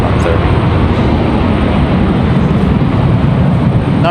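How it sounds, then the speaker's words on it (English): Continuous loud roar of an American Airlines jet touching down at Raleigh-Durham airport on arrival from Dallas, a steady heavy rumble filling the whole stretch, with a voice talking over it. "So American 1888 about to touching down now"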